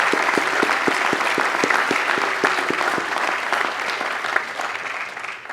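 A commencement audience at King's 150th graduation gives a round of applause for the graduates' parents, a steady roar of many hands close and loud, with one person's sharper rhythmic clapping standing out near the start.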